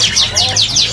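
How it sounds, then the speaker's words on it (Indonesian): Canary chirping at a bird seller's place, four quick, bright descending tweets in a steady rhythm, close and loud, over a low background hum. "Tuh kenarinya ngarik banget ya."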